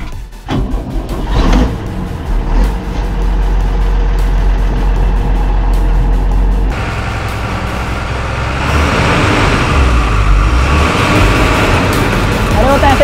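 A truck engine starts and roars into a heavy pull during a truck-versus-trailer power test, its deep diesel drone rising loudly and continuously with people shouting over it.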